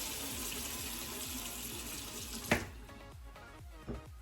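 Water runs steadily from a bathroom tap while a makeup brush is dampened, a close continuous splash that cuts off abruptly midway, followed by a couple of faint knocks.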